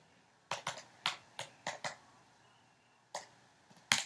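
Quiet, close keystrokes on a 2018 MacBook Air keyboard entering a password, a short burst of soft clicks in an uneven rhythm, a pause, then a few more taps.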